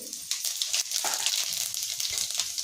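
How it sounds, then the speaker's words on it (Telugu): Crackling, popping sizzle of mustard seeds frying in hot oil, close and steady with a few sharper pops, no voices. "పోపు వేయడానికి నేను ఫస్ట్ ఆవాలు వేస్తాను"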